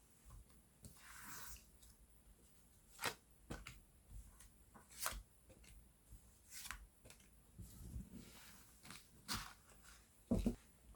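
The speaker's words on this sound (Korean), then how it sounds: "보조 카드를 좀 뽑아봐야 될 것 같거든요" Tarot cards being shuffled and drawn make soft, scattered flicks and snaps at irregular intervals, quiet and close, with no talking.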